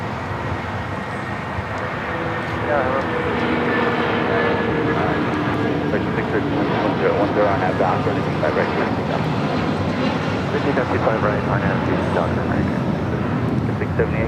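A United Airlines Boeing 757 bound for Newark takes off from the south side at LAX, its distant jet roar swelling into a steady, loud rumble with wind buffeting the microphone, under an occasional voice.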